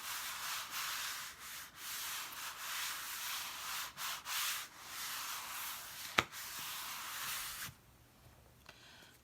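A Chalk Couture transfer is rubbed firmly down onto a surface, giving a steady, close scratchy rubbing that runs in strokes for most of the clip before stopping near the end.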